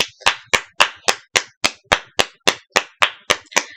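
An applause sound effect made of single crisp hand claps, about fourteen in a steady, evenly spaced rhythm, each sharp and close with no voices or crowd around it.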